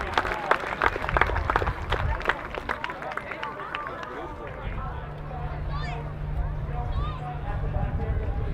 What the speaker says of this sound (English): A round of applause, please, for our paramedic duo.